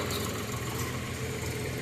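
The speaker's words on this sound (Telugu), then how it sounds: "ఇవి ఈ ట్రాక్టర్ మీద వస్తున్నాయి చూడండి" A tractor hauling waste stone pieces from rock cutting runs with a steady, close engine drone, continuous and even throughout.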